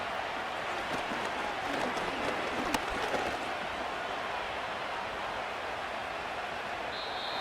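Steady roar of a stadium crowd at an Eagles versus Bengals football game in Madden 25, a continuous broadband wash of cheering and noise that holds at a constant level throughout with no voices standing out.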